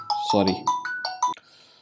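A phone rings during a recording, its bright repeating electronic ringtone chiming in several quick tones, with a voice briefly overlapping.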